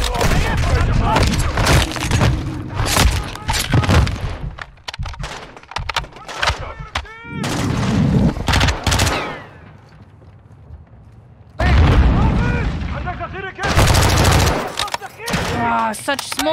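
Gunfire in the video game Call of Duty: Modern Warfare II: loud bursts of rapid shots and booming blasts in dense clusters, broken by brief lulls, with a voice talking over parts of it.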